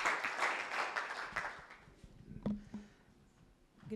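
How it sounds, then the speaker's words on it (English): A summit audience applauds in a soft, broad wash of clapping that fades away over the first two seconds, followed by a few faint thumps in a quiet room. "Round of applause for them."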